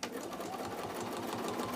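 A sewing machine top stitches a quilt, running as a steady, continuous mechanical hum with fast, even stitching pulses throughout.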